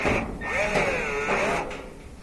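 A power driver with a 5/16 bit whirs up close, removing a screw from a gas dryer, its motor whine rising and dipping in pitch for about a second and a half before winding down.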